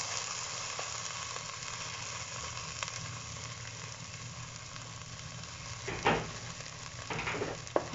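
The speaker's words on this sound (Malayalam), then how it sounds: "കോൺ ഇതിനകത്തോട്ട് ഒഴിച്ചു കൊടുക്കുവാണ്." Ground sweet corn goes into a hot pan for vegetable sweet corn soup, a constant hissing sizzle with a louder surge and a few scrapes near the end, no talking.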